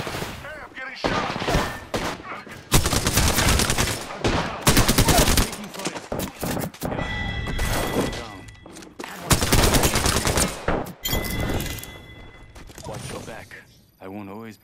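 Sustained video game gunfire, dense bursts of automatic shots crackling almost continuously with brief lulls, loud and close, with a voice talking over parts of the exchange.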